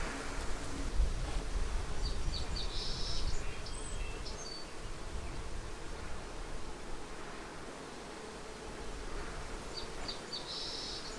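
Honey bees hum steadily at an open hive, a dense continuous buzz close by with a few individual bees whining past now and then.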